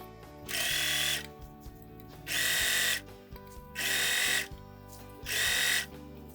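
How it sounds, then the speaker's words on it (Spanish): A domestic sewing machine running a long straight stitch in four even bursts of rapid whirring, each about a second long and separated by short pauses, close up and alone with no talk. "acá estamos en la máquina, entonces voy a empezar a coser"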